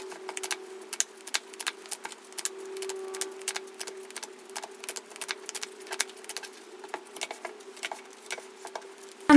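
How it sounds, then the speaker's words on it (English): Tarot cards being shuffled, a run of quick, crisp riffling clicks and soft flutters repeating irregularly throughout, fairly close and moderately quiet over a low steady hum, with no voices. "So let's shuffle the cards and see what comes through."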